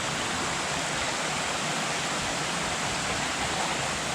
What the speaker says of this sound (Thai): ตอนนี้มาดูน้ำตกตาดคามก่อน